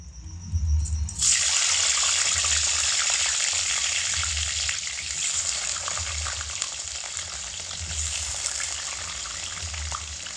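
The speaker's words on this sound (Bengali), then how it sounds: "মিডিয়াম আঁচে রেখে ঘন ঘন নাড়াচাড়া করে আলুগুলোকে খুব লাল লাল করে ভেজে নেব" Potatoes hit hot oil with an abrupt, loud hiss that settles into a sustained close sizzle, with a low rhythmic rumble pulsing underneath.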